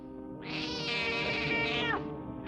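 One long, drawn-out meow from a cat in an old western drama, close and clear, lasting about one and a half seconds over a faint, steady low hum.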